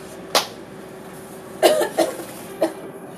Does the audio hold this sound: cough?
yes